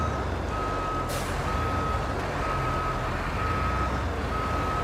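A cargo truck in the game Roadcraft reverses, its backup alarm beeping in an evenly spaced repeating pattern over a loud, continuous engine rumble, with a brief hiss of an air brake early on.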